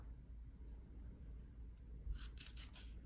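Quiet, close scissor snips cut scrapbooking paper for a box, a few soft crisp cuts clustered near the end after a low, steady background hum.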